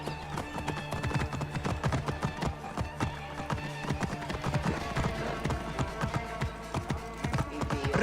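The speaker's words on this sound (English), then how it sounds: "I should find a horse." Horse hooves clip-clop in a steady, fast galloping rhythm in the video game Assassin's Creed Origins, close and continuous, with faint game ambience underneath.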